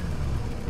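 A Porsche RWB fitted with a custom exhaust in the Need for Speed Heat racing game gives a steady, dense low engine rumble, loud and continuous for a brief moment with no talk.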